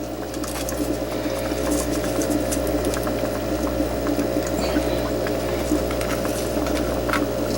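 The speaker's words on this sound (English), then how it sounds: "Wash as much dirt off as I can." Running water splashes and gurgles steadily over lettuce roots as dirt is rinsed off for a hydroponic setup, with a constant low hum underneath and small scattered splashes and clicks.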